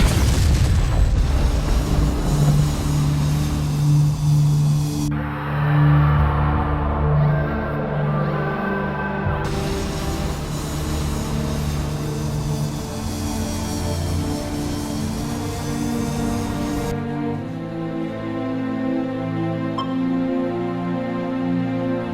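A missile explosion destroys a Korean Air Lines 747 in a loud, sustained boom that rolls on as a deep, rumbling roar, with shifting tonal layers and no talk.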